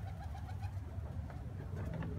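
Racing homing pigeons coo in a low, continuous murmur over steady background noise, with overlapping soft calls and no break across the stretch.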